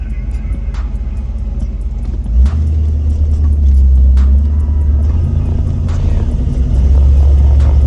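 A Honda Ridgeline with a Spintech exhaust drives along, giving a low steady engine rumble that deepens and grows louder partway through, with loud tire roar and a few clicks.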